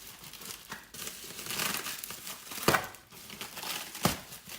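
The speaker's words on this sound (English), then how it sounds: "We've got some extra bubble wrap. And lots of clear packing tape." Bubble wrap and clear packing tape being pulled and torn off new Corbeau seats for a C5 Corvette, with close, steady crinkling and a few sharp tearing rips.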